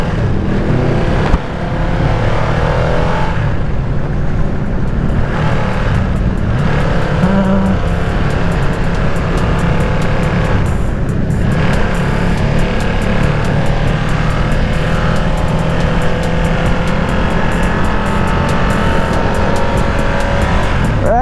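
A Ducati Streetfighter V2 motorcycle riding out with a group of bikes, its engine roaring loud and steady throughout, close up and continuous with no talk.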